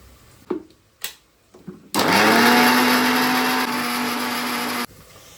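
A few knocks and taps, then a mixer grinder grinding chicken biryani masala into paste starts with a loud steady whirring roar for about three seconds before cutting off abruptly.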